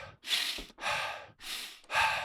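Forced, rapid mouth breathing as in hyperventilation: four strong, breathy airy breaths in quick succession, close and alone, each a long rushing exhale or inhale with short gaps.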